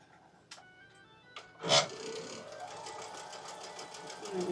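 A sewing machine stitches rows of quilt blocks together during a live quilting session, with a brief clunk and then a soft running whir underneath, faint and close.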